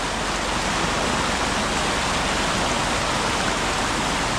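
Floodwater from a breached paddy field bund in Kerala rushes past on both sides of a house, a steady, dense roar of flowing water with no pauses, loud and close, with no voices.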